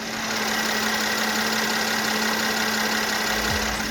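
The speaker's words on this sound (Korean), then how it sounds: "엔진룸 개폐했습니다. 엔진음 들려드릴게요." A Mercedes E300 3.0-litre V6 gasoline engine idling steadily with the hood open, a smooth, even hum and low vibration, quiet and constant with no revving.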